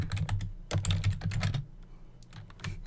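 Quick bursts of typing on a computer keyboard, close up, with a dense run of keystrokes that thins into a few scattered taps and short pauses.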